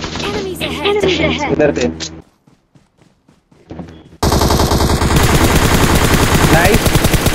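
Rapid automatic gunfire rattles loudly in a team shooter match, continuous bursts filling the last few seconds after a quieter stretch, with players talking over the action early on.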